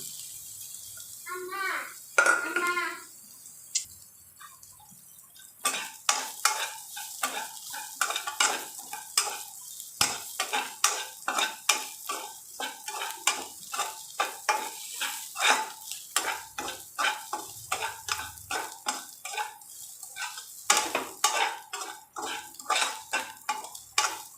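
A metal spoon scrapes and clinks against a pot while crushed garlic, cumin and pepper are stirred into simmering rasam, giving a steady run of close, bright stirring knocks over a soft sizzle after a brief quiet start.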